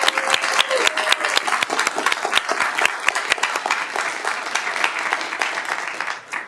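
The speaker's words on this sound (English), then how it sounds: "Let's give them all just a huge round of applause." A crowd gives a big round of applause at a youth poet laureate commencement event in Daly City; thick, even clapping with some sharper nearby claps, holding loud and steady before tapering off at the end.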